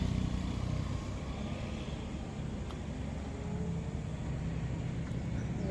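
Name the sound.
traffic of many passing vehicles on a road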